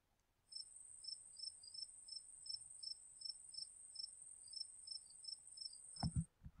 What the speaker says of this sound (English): the sound effect of a cricket chirping would be a good one to use